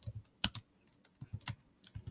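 Computer keyboard typing while a post is written in the Padlet web app: short clusters of clicky keystrokes in an uneven rhythm, close and fairly quiet, with pauses between bursts and no voice.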